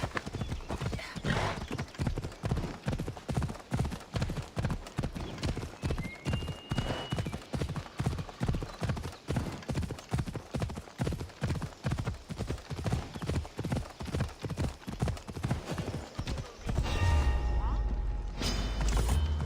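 Horse hooves gallop in Assassin's Creed Odyssey, a fast, steady clip-clop rhythm running loud and close throughout, with creaking tack and a louder rumbling thump near the end.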